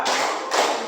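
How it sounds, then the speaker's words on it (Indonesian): Audience clapping in unison during a clap game at a school positive-culture session, two quick bursts of hand claps close together, fairly loud and near. "Tepuk 1, tepuk 2"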